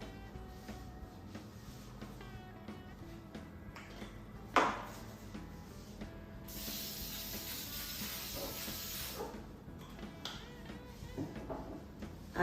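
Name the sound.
spraying oil onto a baking tray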